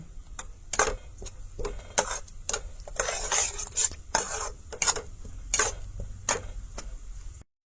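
Chopped peanuts stir-fried in a pan, sharp scraping strokes of a utensil against the metal at an irregular rhythm over a faint sizzle, close and without speech.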